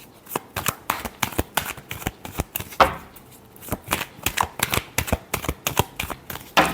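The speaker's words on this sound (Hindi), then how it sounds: "last shuffle" A deck of tarot cards is shuffled up close in a steady run of crisp, riffling flutters and snaps, fairly loud and rhythmic, with no voice heard.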